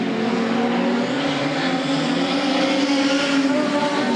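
Production sedan race car roaring past on a racetrack, a loud sustained engine drone holding steady throughout at close range, with no voices over it.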